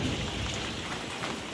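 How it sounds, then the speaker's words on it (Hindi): Steady rain patters and hisses during a thunderstorm, with a low rumble of thunder blended into the continuous wash of noise, fairly close and with no voices. "तगड़ी बिजली कड़क रही है भाई"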